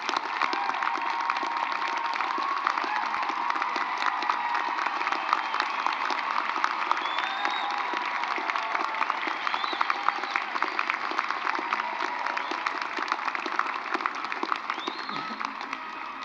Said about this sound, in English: we ask you to now stand for a well-deserved round of applause